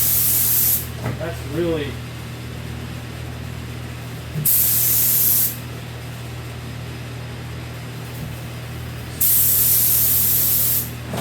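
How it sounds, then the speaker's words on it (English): Paint spray gun spraying onto sheet metal during prep and painting work, a loud steady hiss in three bursts of about one to four seconds each, separated by quieter stretches with a low mechanical hum and brief talk. "Oh, there it's spraying a little bit."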